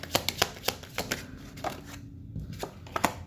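Tarot cards shuffled and drawn by hand at close range, a run of crisp flicks and slaps followed by a short pause and then more card snaps.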